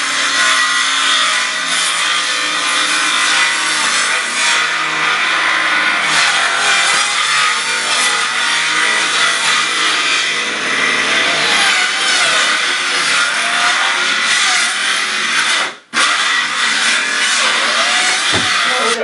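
Steady, loud sawing through a Urestone faux brick panel, a continuous harsh rasping cut lasting nearly the whole stretch with a brief pause near the end, no talking.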